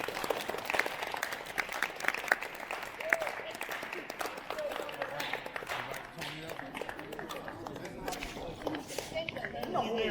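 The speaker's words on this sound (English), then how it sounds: "You give one more round of applause for this." Scattered applause from an audience on a bus tour honoring Rosa Parks, uneven clapping mixed with shuffling and footsteps, with people talking over it throughout.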